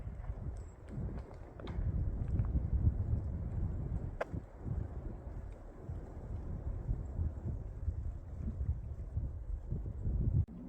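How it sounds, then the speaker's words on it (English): Wind on a snowy mountain blows as a steady low roar and buffeting rush against the microphone, with a few faint clicks and knocks. "Do you hear the wind? It's proper cold, windy,"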